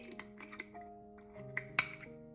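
A small glass spice jar holding metal eyelets is handled, giving a few light, close clinks and taps with one sharper chink near the end, over quiet background tones.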